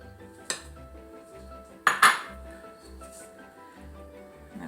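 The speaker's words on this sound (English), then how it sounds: "I'm going to just kind of fold and stir this till it comes nicely together" Roly-poly dough being folded and stirred in a bowl after milk is added, with sparse utensil clinks against the bowl, one sharper knock near the middle, and soft low scraping between.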